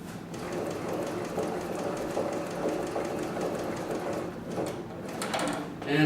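Sewing machine stitching a box pattern around a piece of work, turning at the corners, heard as a steady, close, continuous mechanical whir with a fast repeating needle rhythm and a brief pause near the end.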